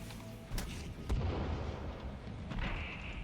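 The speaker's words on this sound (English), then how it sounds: "putting a sticky bomb on him. Run away!" A sticky bomb goes off in the survival video game Sons of the Forest, giving a dull booming blast with a low rumble that fades out, followed by a second thud and lingering noise.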